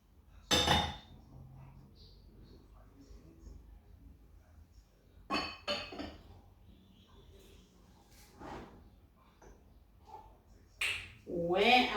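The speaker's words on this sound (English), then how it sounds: "And the bowls, I'll just put them on top here." Ceramic bowls being set on top of a stack of plates, giving a few separate clinks and clatters of dishware spread over the stretch with quiet gaps between, close by.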